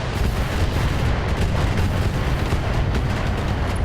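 A volley of long-range missiles launches in the BattleTech mech combat game, a dense, loud, continuous roar of rocket fire and rumbling blasts with no letup.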